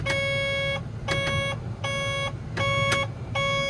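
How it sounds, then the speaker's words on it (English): A micro digger's warning beeper sounds in a repeating pattern of short bursts, each about half a second, with brief gaps, over a low engine hum. "That's less beeping for you to listen to."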